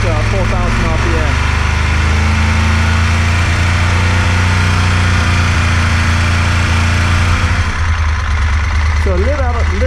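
A Moto Guzzi Griso 1200SE motorcycle engine holds a steady 4,000 RPM during a throttle body balance tune-up, a loud, close, continuous low drone with no break.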